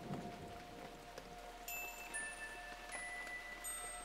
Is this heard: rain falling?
yes